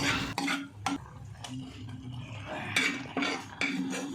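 A spoon clatters and scrapes against a pot while sautéed spinach is mixed into boiled dal, with several sharp metallic knocks spaced irregularly over a low, steady background.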